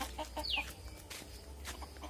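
Village chickens in the Sundarbans clucking nearby in short, scattered calls, with one sharper squawk among them; no talking.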